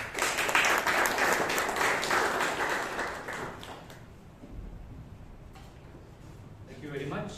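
A round of applause from the audience at a Toastmasters club meeting in Bangalore, steady clapping for several seconds that fades out, followed by a speaker beginning to talk.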